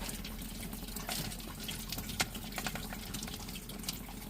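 Water runs over a rock tumbler barrel to rinse off grit, a soft, continuous splash and trickle with occasional brief knocks and drips, fairly faint.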